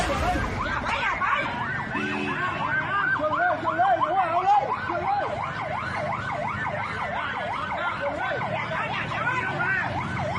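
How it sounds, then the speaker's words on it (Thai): A wailing siren sweeps up and down continuously and fairly close, over traffic noise, with a brief whoop-like tone near the start. "รถตำรวจตอนนี้มาแล้วครับ"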